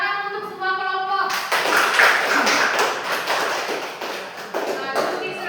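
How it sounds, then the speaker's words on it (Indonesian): Students in a junior high social studies class applaud all the groups after a map lesson, a steady burst of clapping that follows a brief spoken moment. "tepuk tangan untuk semua kelompok"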